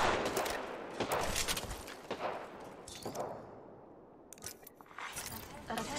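Rapid bursts of gunfire in the battle royale shooter Apex Legends ring out loud and close, with a short lull before the firing resumes. Faint voices are heard underneath.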